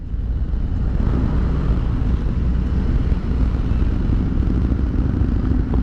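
A 2023 Harley-Davidson Road Glide Special motorcycle rumbles steadily while riding, a dense, continuous low engine drone with road and wind noise holding at an even, loud level throughout.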